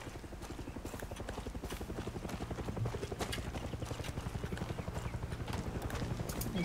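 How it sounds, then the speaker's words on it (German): A helicopter flying in Far Cry 6, its rotor making a steady rapid chopping pulse that runs throughout at moderate distance, with faint game sounds layered over it. "Wieder ein hässlicher Helikopter."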